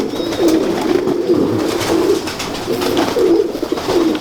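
A pigeon coos in low, rolling phrases repeated steadily on a rooftop loft, close and fairly loud over a soft background hiss, with no voices.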